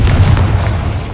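A Confringo blast spell explodes in Hogwarts Legacy, a single deep, heavy boom with rumbling low end that fills the whole moment, close and loud.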